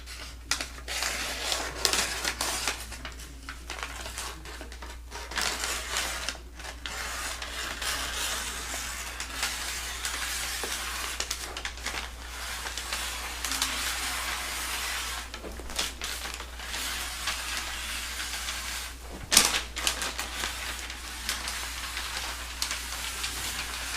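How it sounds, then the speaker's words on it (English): Scissors cutting through a stiff, papery Tyvek sheet with continuous crisp snipping and rustling up close, steady for a long stretch with brief pauses. "So I tested this piece here with a pair of scissors"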